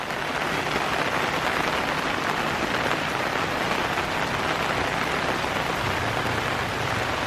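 Heavy rain pours onto muddy ground and soaked rice fields, a steady, loud, dense hiss that holds unbroken from start to finish with no voices.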